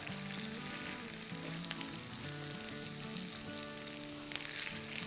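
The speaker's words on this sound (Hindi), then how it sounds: "इसको सौटे करेंगे" Chopped onions sautéing in a pan for an aloo roll recipe give a steady close sizzle and frying crackle that runs throughout, with a brief louder burst near the end.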